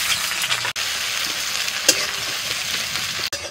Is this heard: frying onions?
yes